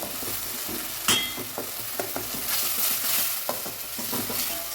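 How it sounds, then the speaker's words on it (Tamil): Tomatoes sauté in hot oil for sambar, giving a steady close sizzle broken by scraping stirs and light taps of a spoon against the pan. "தக்காளி இதில் நல்லா போட்டு மிக்ஸ் பண்ணிக்கோங்க இந்த மாதிரி இந்த ஆயிலே நல்லா வதங்கிடணும்"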